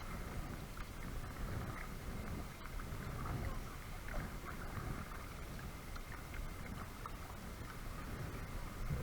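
Kayak paddling on Ullswater lake on a fairly calm day, with soft, steady water and wind noise throughout and faint irregular splashes, low and fairly quiet with no speech.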